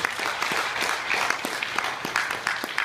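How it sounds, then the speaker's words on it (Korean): An audience at a Korean election candidate's social welfare policy event breaks into sustained applause, a close, even crackle of many hands clapping with no break. "다시 한번 박수 한번 보여주시죠."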